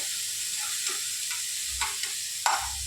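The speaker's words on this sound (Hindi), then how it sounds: "टमाटर को थोड़ा सा 2 मिनट के लिए ऐसा पका लेंगे।" Tomatoes cooking in a pan for spicy aloo ki katli give off a faint, steady sizzle, with a few soft stirring scrapes and clinks now and then.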